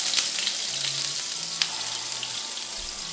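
Burgers sizzle and fry in a very hot pan or griddle, a steady broadband crackle with small pops, close and continuous, and no talking.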